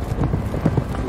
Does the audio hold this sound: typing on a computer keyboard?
no